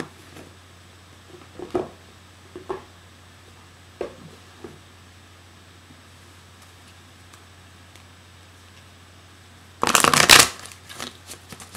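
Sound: shuffling oracle cards before pulling a dragon card

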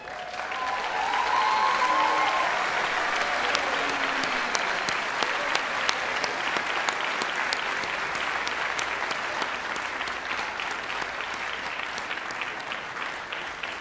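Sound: applause for graduates at commencement

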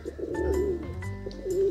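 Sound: pigeons cooing

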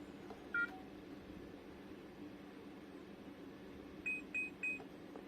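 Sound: beeps of Xiaomi Pro anti-theft alarm being switched on

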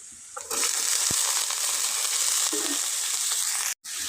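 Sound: cut potatoes frying with onion and green chili

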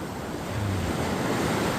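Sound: ocean waves at Anmok Beach

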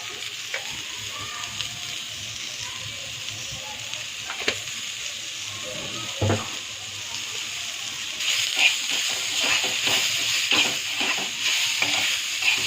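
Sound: onion and tomato being roasted in a pan

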